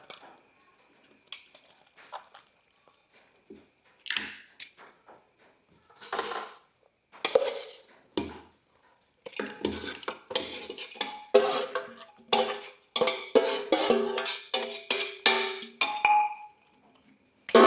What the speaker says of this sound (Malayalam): ഞാനിത് കുക്കറിലേക്ക് ഇട്ടിട്ട് ഇത് അടുപ്പത്ത് വയ്ക്കാൻ പോവാണ് കേട്ടോ.